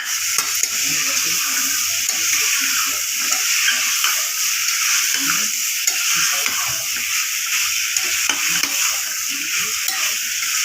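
Chole sauté in a pan with steady, loud sizzling and hissing, while a spoon stirs through them with soft, irregular scraping and squelching strokes underneath.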